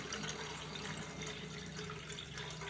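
Water being drained off soaked wheat in a container and then refilled, a steady soft liquid wash and trickle running evenly throughout at low level, with no voices.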